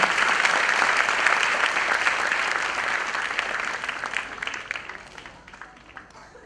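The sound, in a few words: audience applause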